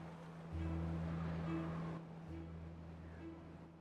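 Water rushes out through a destroyed dam in the city-building game Timberborn, a soft, steady wash of flowing water beneath low tonal game music.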